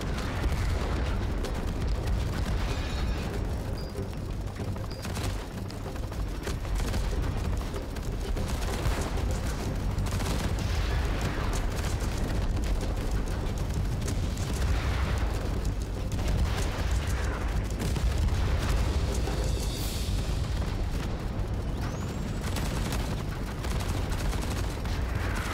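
Dense, continuous barrage of explosions and gunfire from homing missiles striking in the Cloud Cutter video game, loud and unbroken, with repeated sharp blasts layered over a constant roaring rumble.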